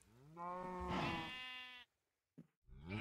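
A sheep in Minecraft gives one long, clear, wavering bleat up close, followed by a short pause and the start of another bleat, with no talking over it.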